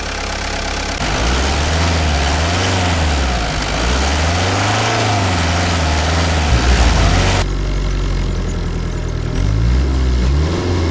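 A Škoda Felicia with a 1.9-litre, 64-horsepower diesel engine idles close by: a loud, steady, slightly tractor-like rumble that stays even throughout, with a small shift in tone partway through and no talking.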